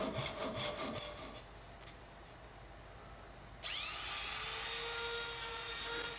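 A Japanese pull saw cuts wooden splines for a beech and jarrah dinner set, with quick rasping strokes in a rapid rhythm at first, then a sustained grinding, close and steady.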